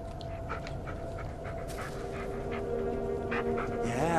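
A dog named Bullet pants steadily at a campsite in the Blair Witch video game, quick breaths repeating under a low ambient drone, with occasional clicks and rustles nearby.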